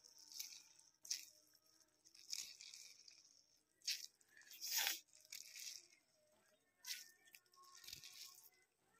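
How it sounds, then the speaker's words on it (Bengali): Salted cabbage and carrot squeezed by hand to press the water out, giving soft wet crunching and squishing bursts that come and go in irregular handfuls, close and fairly quiet. "ভালো করে প্রেসার দিয়ে যতটা পারবেন জলটা পুরো চিপে নেবেন"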